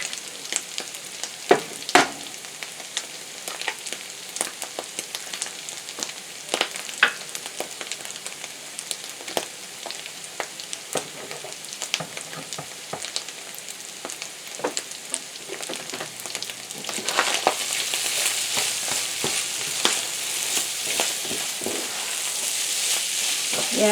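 Eggs sizzle and spit in melted butter in a pan alongside corned beef, a steady close frying crackle with scattered pops that grows denser and louder toward the end.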